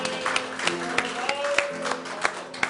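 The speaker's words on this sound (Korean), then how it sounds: "오늘 찬양 성가대 여러분 박수 한번 쳐주시죠." A church congregation gives the choir a round of applause: scattered, uneven claps over a sustained tonal hum, moderately loud and fairly close.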